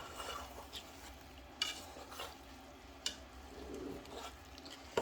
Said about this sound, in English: So I'm just going to stir this